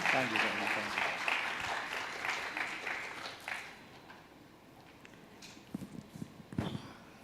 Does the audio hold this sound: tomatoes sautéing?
no